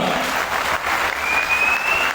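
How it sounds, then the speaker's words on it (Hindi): A burst of loud applause from a crowd at a political rally in Himachal Pradesh, India, steady clapping filling the short moment. "जोरदार तालियां।"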